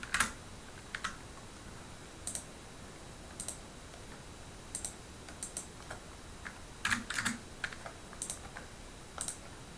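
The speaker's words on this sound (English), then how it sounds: "We click inside the grade cell when we're ready to post grades, and we keyboard the grade." Grades being typed on a computer keyboard, with faint, irregular bursts of key clicks and taps spread across a quiet background, no talking.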